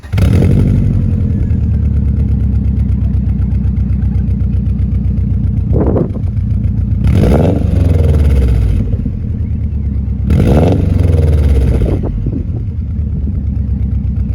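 A 1996 Subaru Impreza WRX boxer engine idles with a steady throb, then rises through two or three sharp revs that swell and fall back, loud and close with no voices.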